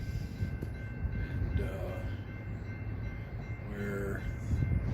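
Keokuk Junction Railroad train with a tank car behind the engine rolling along, a steady low rumble with faint tonal squeals and a brief spoken word.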